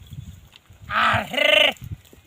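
A goat bleats twice in quick succession, close and loud, with faint background noise before and after.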